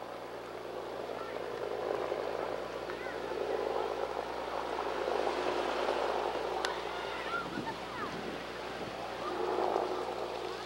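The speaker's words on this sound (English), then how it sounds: "And there goes the helicopter taking off that went over in the school round." Helicopter taking off near a school, recorded on a 1993 home camcorder: a steady, broad rotor and engine rumble that swells gently and holds for the whole stretch, with faint, muffled voices in the background.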